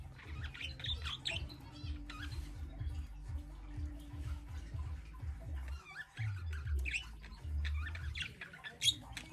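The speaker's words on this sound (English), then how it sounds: "listen to the birds sing" Aviary birds, including Chinese dwarf quail, chirp and sing in a mini-zoo workshop setting, with scattered high tweets over a low, rhythmic mechanical hum.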